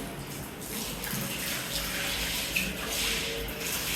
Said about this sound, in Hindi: ये धुल रही हैं भाई सीढ़ियाँ, मैं कॉमन धो रही हूँ, मैं धो रही हूँ सीढ़ियाँ।